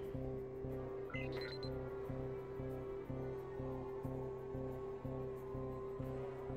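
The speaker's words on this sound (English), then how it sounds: "I'm going to pause until this alarm is away." An alarm blares in the 2002 Spider-Man PS2 game, a loud repeating electronic tone pulsing in a steady rhythm of roughly one beat per second, sounding alone over the game's background music.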